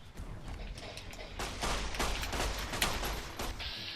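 Several gunshots from a 9mm pistol in Fallout New Vegas, sharp cracks spaced unevenly amid a busy firefight with other weapons going off.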